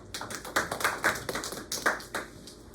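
A handful of people at a seminar clap, scattered and fairly quiet, each clap distinct rather than a full roar of applause.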